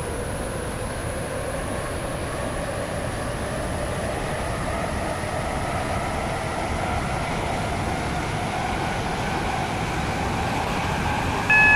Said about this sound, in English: Welcome aboard this WaterLine train to Greenslade.